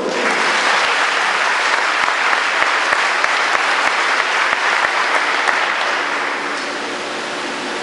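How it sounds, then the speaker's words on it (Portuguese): A church congregation applauding during a Portuguese-language service, dense sustained clapping filling the room, loud and steady before easing off slightly toward the end. "Você pode aplaudir o Senhor?"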